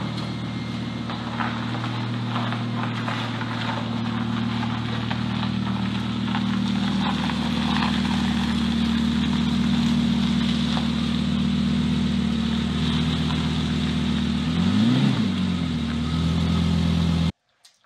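Volvo 244 fitted with a Lamborghini V10 engine running steadily, a deep layered engine drone holding nearly constant for many seconds with a brief swell of revs near the end before cutting off.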